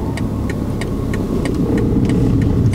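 A learner driver's car engine revs steadily and loudly while the clutch is launched, a constant close drone with faint regular ticking above it and no voices.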